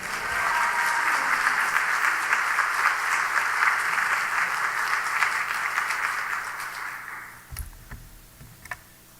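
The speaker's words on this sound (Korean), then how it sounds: "여러분들이 뜨거운 마음으로 박수하시면서 맞이하시기를 바랍니다" A church congregation at a Wednesday evening service gives dense, loud applause that holds steady for several seconds, then fades out, leaving a few scattered claps and small knocks.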